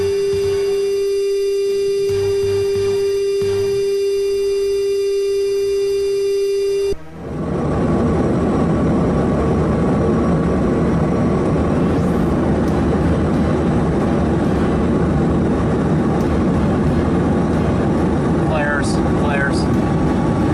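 US military aircraft being intercepted by PLA aircraft over the Indo-Pacific, a loud, steady engine roar. A tonal hum sits under it at first, then a sharp cut opens into a dense, continuous drone that persists to the end with no talk.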